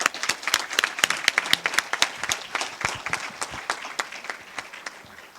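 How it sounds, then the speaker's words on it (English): Audience at a Colleen coronation ceremony applauding the contestants' families, dense clapping from many hands with sharp individual claps standing out, steady and close throughout. "so a round of applause for all of you"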